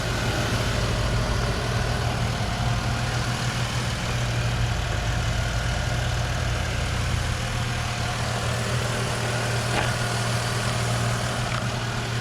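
Steady, even idle of a clean, quiet, low-mileage 2007 Jeep Liberty engine, heard close with a constant low hum and no talk.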